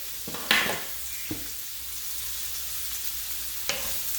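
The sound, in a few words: sea scallops searing in a hot pan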